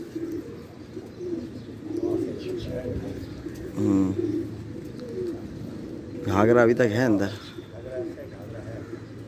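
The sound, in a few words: pigeons cooing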